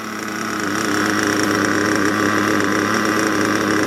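A Kyosho Inferno MP9 RC car's small nitro engine runs during break-in at midnight, a loud, steady, buzzing drone that holds constant close by.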